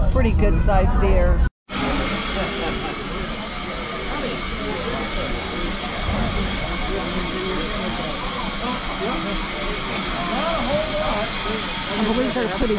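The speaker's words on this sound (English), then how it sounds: "I believe they're putting water in the train." An 1880-era steam train in South Dakota hisses loudly and steadily while taking on water on a chilly, foggy evening, a dense continuous rush of steam broken by one brief drop-out near the start.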